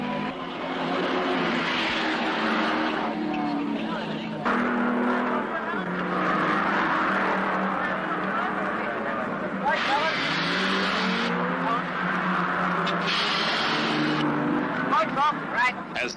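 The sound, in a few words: race cars at 1970 Bathurst 1000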